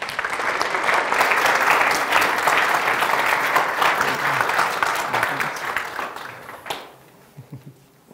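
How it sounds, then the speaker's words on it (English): A church congregation at a Sunday worship service breaks into sustained applause that carries loud and dense for about seven seconds, then thins out into a few scattered claps and murmurs. "celebrate Leah and our good Lord with a round of applause"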